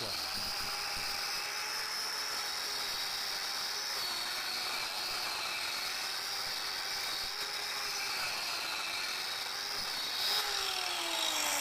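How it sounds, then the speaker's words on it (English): A high-pitched turbo plane power carver whines continuously as it grinds through timber, its tone shifting slightly as the cut proceeds, with no pauses. "Simply clamp it onto the timber and follow it around with the turbo plane."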